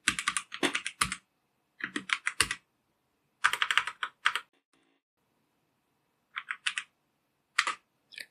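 Text is typed on a computer keyboard into VS Code, with quick bursts of crisp, close key clicks separated by short pauses of silence.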